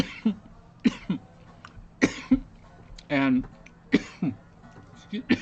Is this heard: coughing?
yes